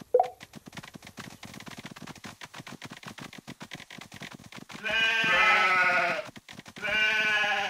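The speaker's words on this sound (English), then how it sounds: "Gather these sheep and bring them to me." Cartoon sheep bleat in a Paw Patrol kids video game, a cluster of loud, wavering bleats near the end over a busy run of rhythmic clicking game sounds.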